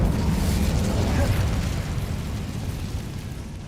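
Incendio fire spell cast in the video game Hogwarts Legacy, a loud, sustained roaring whoosh of flame that holds steady for several seconds before easing slightly.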